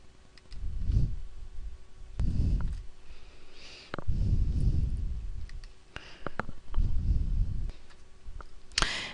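A computer mouse clicks quietly while working in Project 2010 software. A few sharp isolated clicks are scattered among soft rustling and breathy background noise.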